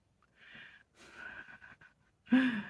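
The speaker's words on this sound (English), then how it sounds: "My dog's snoring." A dog snores nearby in three raspy, snorting breaths, the last one louder and rougher than the first two.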